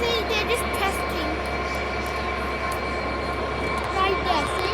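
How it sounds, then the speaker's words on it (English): A train passes at York station, a steady broad rumble with rail hum and some squealing tones running throughout, close and fairly loud. "As you see, it's a train."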